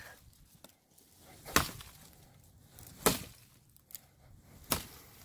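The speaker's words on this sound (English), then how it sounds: "Chopping up wood." A knife chops into wood with three sharp, crisp strikes spaced about one and a half seconds apart. Quiet rustling fills the gaps, with no speech.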